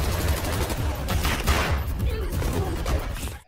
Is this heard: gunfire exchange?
yes